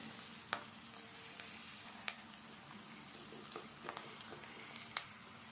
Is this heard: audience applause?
no